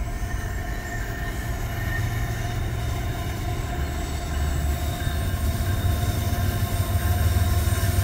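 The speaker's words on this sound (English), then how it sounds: "I hear a train." A train rolls across the stone Thomas Viaduct at Relay, Maryland, a loud continuous rumble of wheels on rails with faint squealing tones, steady and building slightly as it passes close by.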